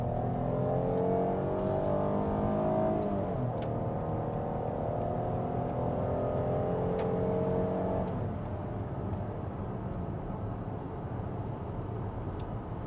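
A Chrysler Pacifica minivan accelerating from 0 to 60, its engine a smooth, steady whir rising in pitch with a gear shift partway through, heard from inside the cabin, quiet and continuous, with no talking.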